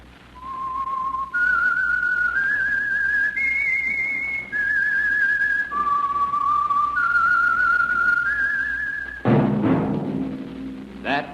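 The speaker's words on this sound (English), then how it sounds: "That whistle is your signal for the Signal Oil Program, The Whistler." Theme whistle of The Whistler, a 1940s radio drama: a lone person whistles a clear, eerie melody of held and sliding notes for about nine seconds, then a low orchestral swell enters.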